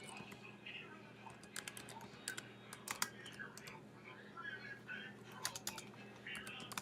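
Computer keyboard typing as a location is entered, irregular bursts of light key clicks against a low room hum, with faint speech-like murmuring underneath.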